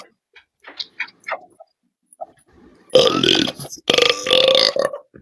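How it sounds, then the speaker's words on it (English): A loud, drawn-out burp shaped into a spoken name, coming after quieter scattered vocal sounds and small noises, with a second strong burst close behind. "I'll burp your name"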